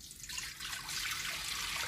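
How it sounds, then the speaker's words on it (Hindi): Water is poured into a cooking pot for rice in a village kitchen with a clay stove, producing a brief, steady, fairly quiet splashing rush. "अब चलिए भगोने में पानी पलट देते हैं।"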